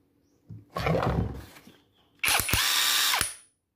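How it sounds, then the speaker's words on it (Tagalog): Tanzu MT-21V cordless 330 Nm impact wrench, heard in two loud close bursts of whirring and rapid hammering, separated by a short pause and ending in a clipped stop. "ititest po natin kung gaano ba ito kalakas itong 330 na Nm na impact wrench"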